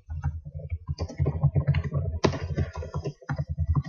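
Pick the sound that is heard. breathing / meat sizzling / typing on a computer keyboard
typing on a computer keyboard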